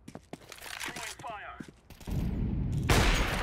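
Gunfire in a tactical shooter match with a P90 in play, heard as sharp transient shots amid close talk, followed by a dense, sustained burst of noisy firing toward the end.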